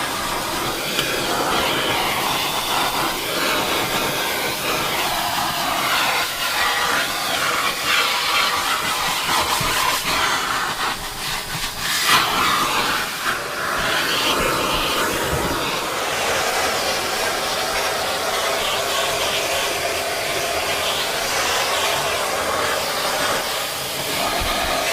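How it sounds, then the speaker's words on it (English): A vacuum cleaner with a soft brush attachment runs over the rear seats and centre console of a Nissan GTR, making a steady, close, hissing whoosh with slight shifts as the nozzle moves. "A soft brush attachment was then used to vacuum off the rear seats and centre console."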